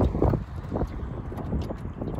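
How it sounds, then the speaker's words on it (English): Wind gusts buffet the microphone on rough open water beside a trolling motor's GPS spot-lock, a low blustery rumble pulsing in uneven surges, close and moderately loud with no voices. "It's pretty windy now."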